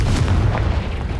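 A heavy, booming fire-blast spell, Confringo, goes off in the video game Hogwarts Legacy as one dense, loud, low-end explosion rumbling for just over a second.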